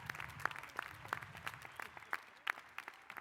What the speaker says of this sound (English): please join me in giving them a great, huge round of applause